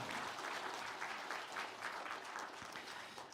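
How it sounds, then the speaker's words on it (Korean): A church congregation claps in thanks at a New Year's Eve worship service: soft, even applause from many hands, continuous and fairly distant, holding steady for a few seconds before easing slightly. "우리가 함께 감사의 박수를 하나님께 올려드리겠습니다"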